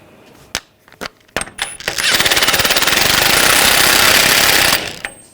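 Impact wrench hammering a spindle nut tight on a 2014-2018 GMC Sierra 1500 front end: a few short clanks, then a loud, steady rattling burst of nearly three seconds that cuts off, followed by a couple of light clicks.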